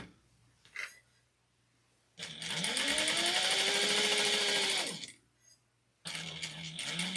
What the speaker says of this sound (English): make sure the area that you're about to stitch is flat